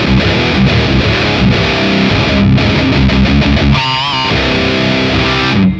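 Electric guitar played through a Marshall amp dialed to a Valvestate-era distorted tone, loud dense chugging chords and a brief sustained note, continuous for several seconds then cut off.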